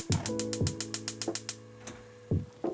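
A kitchen stove being switched on to its highest heat for boiling potatoes, heard as a run of rapid ratcheting clicks from the igniter or dial, followed by a few separate knob clunks, close and clear with no talking.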